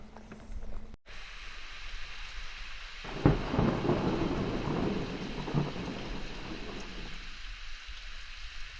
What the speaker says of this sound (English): sitting out a thunderstorm in a bus shelter